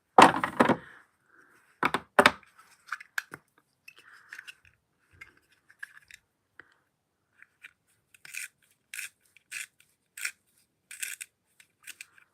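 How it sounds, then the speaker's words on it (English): Makeup pencil being sharpened, a few short scraping grinds at first, then many faint scattered ticks and small rasping turns with long quiet gaps, close and soft, no talk. "I need to sharpen this pencil"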